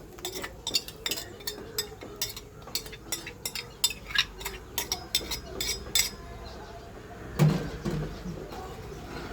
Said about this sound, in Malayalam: ഞാൻ അരച്ചരപ്പ് തേങ്ങയും ചുമന്നുള്ളി അരച്ചരപ്പ് ഇങ്ങോട്ടിടുവാണേ